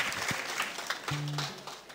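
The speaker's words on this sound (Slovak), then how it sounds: "poprosíme potlesk pre otca Čikoša" Applause from an audience at a Roma pilgrimage gathering in Gaboltov, honoring a priest, heard as a steady, moderate clatter of clapping with a short voiced tone near the end.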